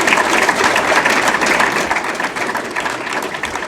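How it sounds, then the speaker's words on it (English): Audience at a soccer awards reception gives a loud, continuous round of applause, close and dense, gradually easing toward the end. "let's have a round of applause for our 2016 Freshman of the Year, Central Arkansas's Nicholas Brodacki."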